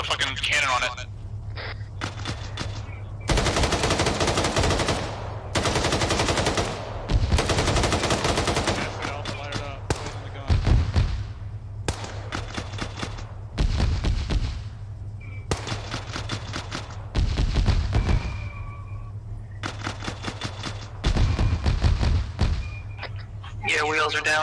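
Bursts of automatic gunfire hit a truck cab in an Arma military game, long loud volleys alternating with short pauses and single shots, with radio-style voices talking between bursts.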